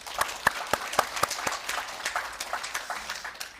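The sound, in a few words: seminar audience applause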